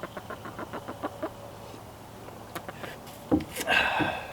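Chickens clucking in their coop, a rapid run of soft close clucks followed by scattered calls and a louder squawk near the end.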